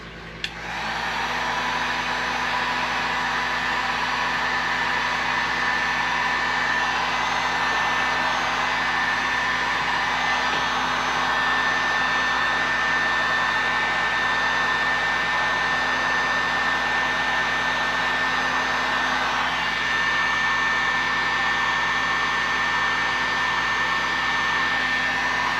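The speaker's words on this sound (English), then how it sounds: "now we can hit it with the heat gun. Just watch it just shrink right on up." A heat gun blows steadily and loudly, shrinking heat shrink tubing over butt-spliced wiring on a jon boat. The whine runs without a break for the whole stretch, and no one speaks.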